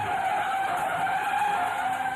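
A touring car skids out of control on a racing circuit, a sustained, loud tyre squeal over the engine's roar, continuous across the whole moment with no voices.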